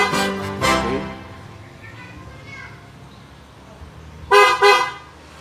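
Short paired horn chirps from a Mercedes-Benz fitted with a Cardot smart alarm as it auto-locks, two quick toots at the start and another double chirp near the end, with quiet background in between.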